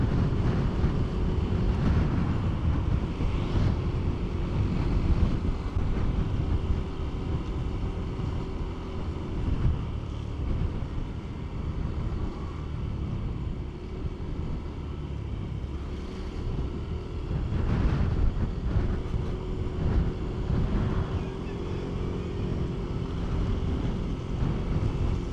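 Strong wind buffets the microphone beside a mountain lake, a continuous loud low roar with gusty swells and no voices throughout.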